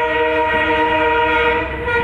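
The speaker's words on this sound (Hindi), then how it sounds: "फाइनली ट्रेन के अंदर बैठ चुका हूं, उसके बाद अभी चल रहा है ट्रेन" Passenger train running from Rajendra Nagar to Guwahati, heard from on board as a steady loud rumble with a sustained horn-like tone throughout.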